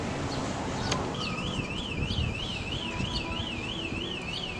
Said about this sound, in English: Someone shut that damn alarm off.